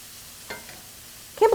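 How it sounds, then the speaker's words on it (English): Cauliflower rice is stirred in melted butter in a pan, with a couple of soft scraping stirs over a quiet background and a louder sizzling burst at the end. "So I'm just gonna mix this around, get the cauliflower all coated in that butter."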